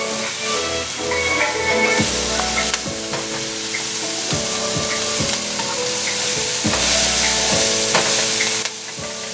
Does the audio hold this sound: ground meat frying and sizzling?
yes